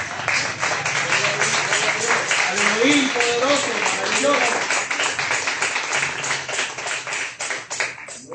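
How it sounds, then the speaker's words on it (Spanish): Church congregation claps hands in a fast, steady rhythm throughout, while someone speaks and sings over the clapping. "Denles fuertes a palmas"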